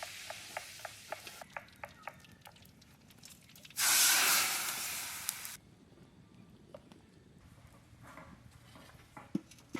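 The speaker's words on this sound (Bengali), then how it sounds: "মুগের ডালে ফোড়ন দেবো, তার জন্য নিয়েছি সরষের তেল, শুকনো লঙ্কা, তেজপাতা আর গোটা জিরে ফোড়নে।" Dried chillies, bay leaves and whole cumin dropped into hot mustard oil, a sudden loud sizzle that hisses strongly for about a second and a half and then fades, with small taps and clicks before and after.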